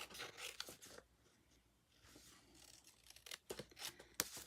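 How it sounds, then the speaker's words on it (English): Scissors trim the edge of a handmade paper Halloween card, a close run of rasping, sliding cuts with a few louder snips near the end, heard alone without talking. "let's give it a little trim here"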